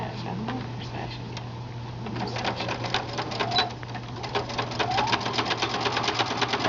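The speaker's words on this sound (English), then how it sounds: "you just want to sew about 1/8 of an inch right inside the folds" A sewing machine stitches fabric for a fat quarter skirt with a fast, steady mechanical rattle and motor hum that builds toward the end, close by, with someone talking over it.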